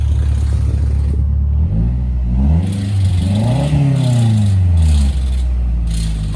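A 2010 Mazda Speed 3 engine revs through a new CorkSport axle-back exhaust, a steady rumbling idle swelling into several rising and falling throttle blips, loud and close, then settling back to a low drone.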